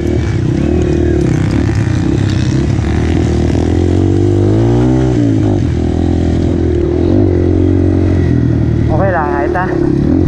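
An enduro race motorcycle runs loud and close with a continuous droning engine note that rises and falls with throttle changes. Wind buffeting and occasional talk come through over it.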